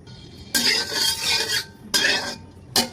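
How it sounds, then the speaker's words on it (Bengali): Cooking oil poured into a pan for beef bhuna hisses and sizzles in three loud close bursts, with quiet gaps between them and no talking. "রান্না করার জন্য আমি প্রথমে পরিমাণ মতো তেল দিয়ে দেবো তেলটাকে ভালো করে গরম করে নেব"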